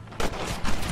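Gunfire in Red Dead Redemption, a couple of loud bursts of shots within a second, dense and close, with no talk over them.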